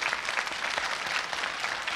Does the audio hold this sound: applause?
yes